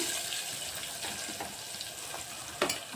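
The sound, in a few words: onion slices frying in hot oil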